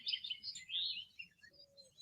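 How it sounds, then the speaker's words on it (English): Birds chirp and tweet in quick, overlapping high calls, fairly soft and steady throughout, with a faint low rumble beneath. "What is it that you can hear on the meadow? Birds,"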